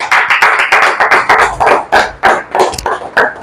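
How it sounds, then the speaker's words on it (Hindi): Loud, close hand clapping for a teacher at a free coaching centre for orphans and needy students, with irregular individual claps in quick succession for about three seconds and no talk. "तालियां हो जाए।"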